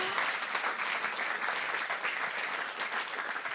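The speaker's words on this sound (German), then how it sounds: "Deswegen Riesenapplaus, dass ihr heute hier wart." Comedy club crowd in Berlin applauding, a thick continuous wash of clapping heard from within the room, steady and even throughout with no talking on top.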